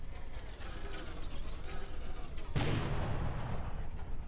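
A turret fires in the naval combat game From the Depths, one sudden heavy blast about halfway through that booms and rumbles on over a mechanical background hum, with a voice faintly heard.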